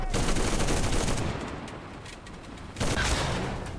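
Dense, sustained enemy gunfire in the World War II shooter Enlisted, a loud continuous crackle of shots that eases off mid-clip and then surges again near the end, with no talking.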